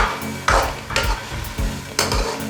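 Tomatoes and small green chillies hit a hot frying pan for a dhaba-style desi chicken gravy, giving loud, close sizzling bursts with a few rhythmic stirring scrapes in quick succession.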